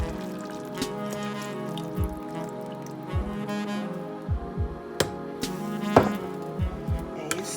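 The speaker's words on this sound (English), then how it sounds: "So you pour your cream solution in." Cream solution is poured into a pan of simmering peas, a liquid trickle and splash over a low steady sizzle, with a few soft knocks and clinks nearby and no talking.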